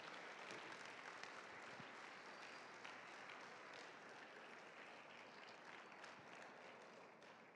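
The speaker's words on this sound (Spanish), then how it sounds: "Denle un fuerte aplauso al Señor." Congregation applauds during a church service, a faint but sustained wash of many hands clapping that continues evenly throughout.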